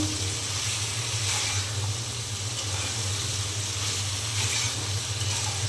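Cauliflower florets and a potato sizzle steadily in hot spiced oil in a pan, a continuous close frying hiss that runs evenly throughout with no talk.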